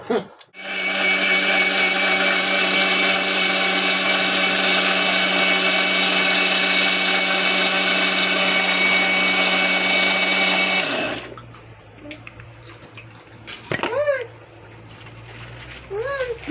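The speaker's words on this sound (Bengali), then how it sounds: "মিক্সারটা খুব একটা ভালো না ভাই," An electric mixer grinder runs loud and steady for about eleven seconds, grinding paste while family members cook together for a funeral rite, then cuts off, leaving quieter background sounds and a brief voice.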